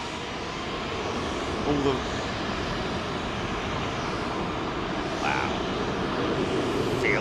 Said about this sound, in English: This whole building shakes when these jets go out